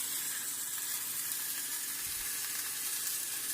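A store-bought sirloin Philly steak patty sizzling in a pan, a soft, even, continuous hiss with no voices.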